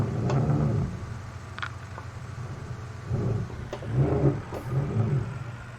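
Tractor in Farming Simulator 19 driving with a fertilizer spreader, a steady low engine drone that swells and eases in pulses, close and continuous with no talk.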